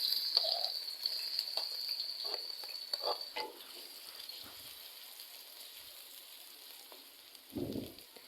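Chopped onions hitting a cup of hot oil in a kadhai give a steady, quiet sizzle and crackle throughout, with a brief louder burst of frying near the end. No one speaks.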